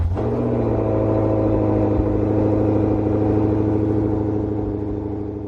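A 2025 Audi RS5 Sportback engine idling, a steady deep rumble heard close with no voices.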